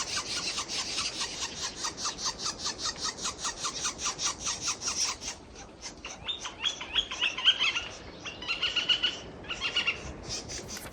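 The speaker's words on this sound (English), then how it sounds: "This is a northern flicker. He's been squawking at us from this tree over here all day." A northern flicker calls repeatedly from a tree at a campsite in Monache Meadow, a rapid raspy series of squawks that pauses briefly and then resumes, moderately near over a steady outdoor background.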